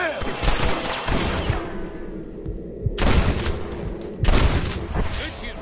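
Gunfire in the Red Dead Redemption video game, dense bursts of shots with a long crackling volley at first, then two more loud bursts, mixed with game voices and ambience.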